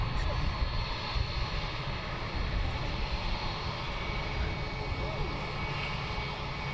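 An airliner taxiing after landing at London Luton Airport, a loud steady engine roar and rumble heard from nearby throughout, with faint talk underneath.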